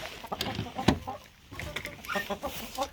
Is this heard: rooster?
yes